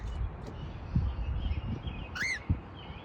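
A pet bird gives one brief, bright chirp partway through, faint and close, over a steady indoor background hum with a few soft thumps.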